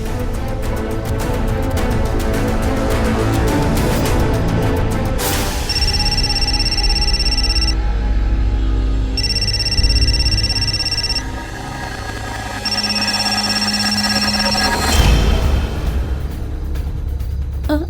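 A phone rings in repeated electronic bursts, ringtone tones pulsing over steady background noise and a low hum, with no one speaking.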